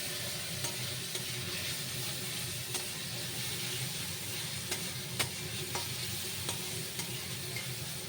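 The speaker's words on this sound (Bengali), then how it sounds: "ভালো করে নাড়া দিতে হবে, নাহলে লেগে যাবে।" Food fries in a pan over a medium gas flame while being stirred, a steady soft sizzle running throughout with scattered light scrapes and taps of the utensil against the pan.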